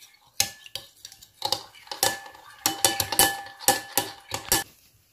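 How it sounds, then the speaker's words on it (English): A spoon stirs mini doughnut batter in a bowl, giving a steady run of close, bright clinks and scrapes against the bowl at an irregular, busy rhythm, with no voice over it. "After you add the half in, start mixing it."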